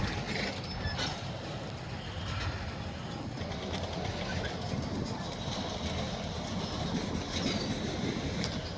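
A long Canadian National freight train rumbles steadily past nearby at North Fond du Lac Yard, a continuous roar of wheels and rattling cars with faint creaks and clacks and no break.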